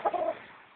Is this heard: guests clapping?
no